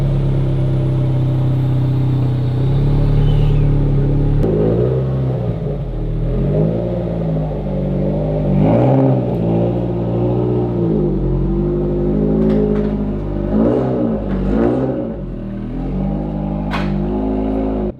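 A turbocharged Subaru BRZ with an aftermarket exhaust revs loudly and steadily nearby, deep rumbling swells rising and falling in repeated throttle blips throughout, with no talking.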